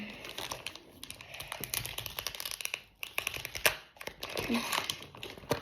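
A pack of football trading cards is torn open, its foil wrapper crinkling and rustling close up in quick, busy bursts through the clip.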